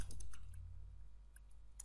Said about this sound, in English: I'm just simply typing that